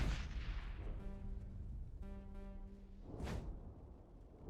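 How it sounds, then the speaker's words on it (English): A grenade explosion in the Mass Effect video game: booming blasts with a droning tonal hum, ending in a sharp burst near the end. The sound plays alone over a steady rumbling background. "Okay, so that's grenade."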